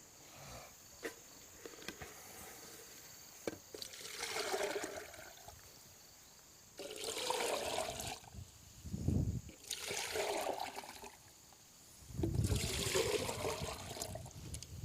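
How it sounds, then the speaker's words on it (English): Stirred water poured from a container onto a potted tomato plant, trickling and splashing in several separate pours of a few seconds each over a faint steady insect-like hum, quiet and close. "we'll water the plant thoroughly with it"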